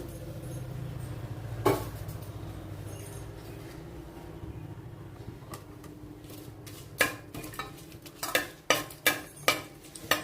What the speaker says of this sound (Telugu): చిన్న స్పూన్తో 3 స్పూన్లు తాలింపు గింజలు వేస్తున్నానండి.